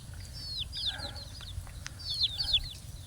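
Chickens on a hillside farm clucking and chirping in quick, faint bursts of short calls, quiet and somewhat distant over a low background rumble.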